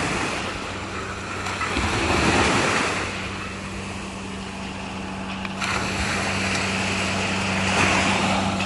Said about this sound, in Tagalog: Ayan, kalmado ang beach ngayon.